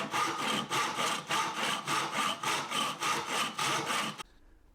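A handsaw rasps back and forth cutting a kerf in wood for an axe handle, in a steady rhythm of about a dozen strokes, close by, then stops abruptly.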